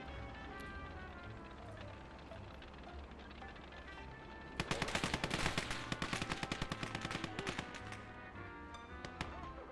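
Video game battle with rapid bursts of gunfire and rifle shots, including a Mosin sniper rifle, crackling loud and dense in the second half over a background of ambient game noise.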